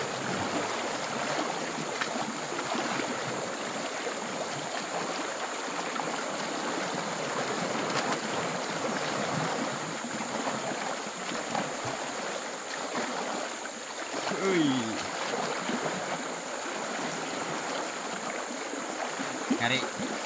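Swift floodwater rushing through a stream beside a cassava garden in the forest: a constant broadband roar and gurgle of moving water, moderately loud and unbroken throughout.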